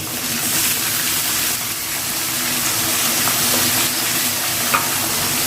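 Small shallots sizzle and crackle loudly in hot oil while being stirred for tomato rice, a dense continuous frying hiss with occasional scraping.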